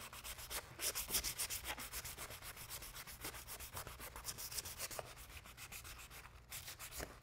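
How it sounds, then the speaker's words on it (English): Wooden paintbrush handle rubbed smooth with sandpaper as it is turned on all sides, producing quiet, rapid, rhythmic scratchy strokes, close up and alone. "sandpaper and just smoothen it"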